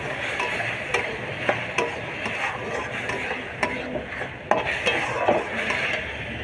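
A ground paste of ginger, garlic, cumin, coriander, black pepper and turmeric fries in a pan for capsicum chicken, with a low sizzle under repeated clinks and scrapes of a spoon against the pan.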